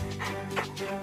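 A young dog, still a puppy, gives a short, soft bark-whimper close by, a single brief vocal burst indoors.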